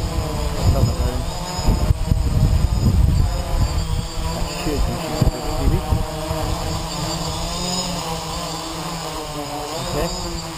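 A DJI Naza GPS quadcopter flies in high wind, its motors giving a steady buzzing drone with strong gusty wind rumble buffeting the microphone throughout.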